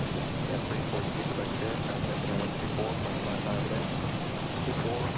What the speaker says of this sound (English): It's like I got 3 different versions of rain going on here.